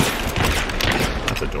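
Gunfire in the Hunt: Showdown video game comes as dense, loud overlapping shots and blasts in a brief burst, with a voice speaking over it.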